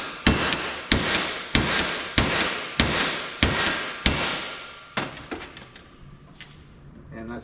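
A hammer strikes the round shoulder of a tail shaft yoke on a Holden Torana, six or seven sharp, evenly spaced metallic blows, close and loud, followed by lighter scattered taps and handling noise.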